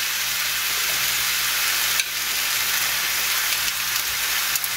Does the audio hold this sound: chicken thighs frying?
yes